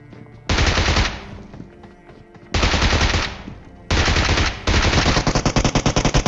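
Bizon submachine gun in a video game firing in three loud bursts of rapid automatic fire, the last breaking into quick separated shots, with short pauses between bursts and no talking.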